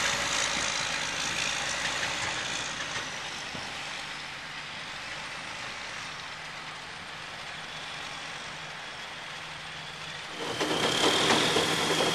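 A heavy beet-haul truck engine rumbles continuously nearby, a steady low drone that swells louder near the end.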